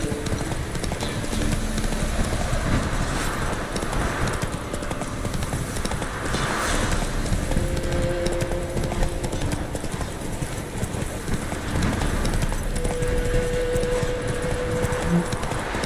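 Roach, a horse in the video game Witcher 3: The Wild Hunt, gallops with dense, continuous hoofbeats, loud and steady throughout under a constant game soundscape.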